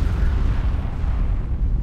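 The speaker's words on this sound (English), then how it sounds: "we have a nice mushroom cloud explosion" A nuclear blast from the real-time strategy game Supreme Commander 2 detonates as a heavy, sustained low rumble that fills the whole clip at steady loudness, with no talk over it.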